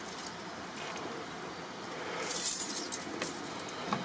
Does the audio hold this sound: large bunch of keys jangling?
yes